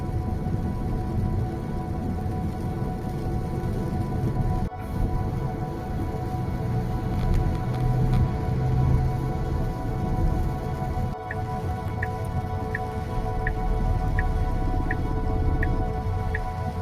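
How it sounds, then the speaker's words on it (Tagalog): Steady rain drumming on a Tesla as it drives near San Narciso, Zambales, a continuous dense patter over low road rumble with faint periodic ticking, no voices. "Ulan, inabutan tayo ng ulan dito sa may San Narciso."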